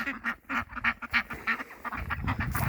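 Farm ducks quack in a quick run of loud, close calls with short pauses between them, a few birds overlapping near the end.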